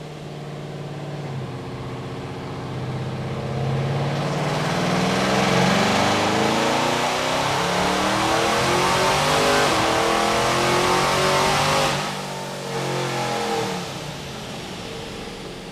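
A C6 Z06 Corvette revs hard through a full-throttle pull. The loud engine note climbs steadily and sustains, then dips briefly at a shift before pulling again.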